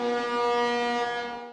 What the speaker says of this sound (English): A short blast has about 1 second duration and sounds like this.